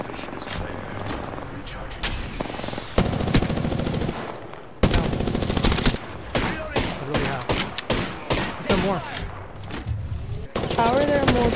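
Dense video game gunfire, bursts of automatic weapon fire and single shots crowding together loud and close for the whole stretch, with brief pauses between volleys.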